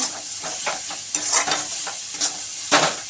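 Soybean keema sautéing in masala in a pan, a continuous sizzling hiss with repeated scraping stirs of a spoon, close and without speech.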